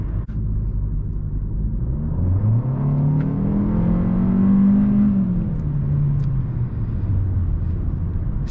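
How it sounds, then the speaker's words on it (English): A 2021 Kia K5 LXS sedan accelerating hard, its engine a steady loud rumble with a rising, sweeping whir as revs climb and fall back, heard up close with no talking. "you hit the throttle and nothing really happens for a brief second, and then it just powers on and you get a ton of power"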